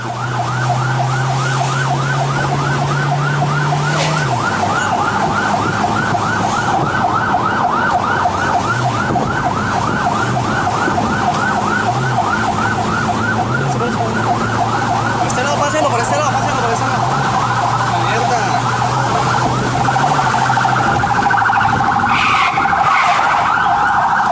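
Ambulance sirens wail loudly from a replayed Colombian news video, a fast repeating yelp over traffic rumble, with a low horn-like tone and voices mixed in.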